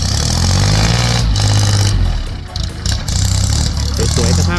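A used Kubota L3608 tractor's 36-horsepower three-cylinder diesel engine runs loud and close with a steady rumble, briefly dipping midway, while someone talks over it.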